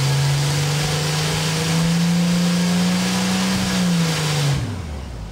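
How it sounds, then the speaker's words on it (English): A Ford 300 inline six on a dyno runs through a power pull, its steady engine note climbing through the sweep, holding loud and close, then dropping away as the throttle closes near the end. "It ran awesome with no leaks, knocks, or pings, so some power pulls were in order."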